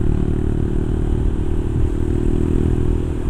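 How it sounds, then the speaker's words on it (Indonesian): A trail motorcycle riding toward Malino gives a steady, close engine drone with a rough, clattering texture that holds at an even level throughout, with no talking. "naik motor trail kan asik"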